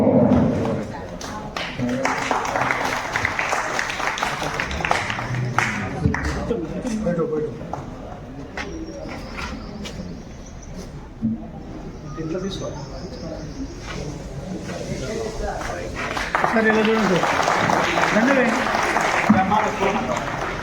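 Applause from a crowd of old students at a school reunion felicitation, with sustained clapping that swells and fades over a noisy hall while voices talk and call out throughout.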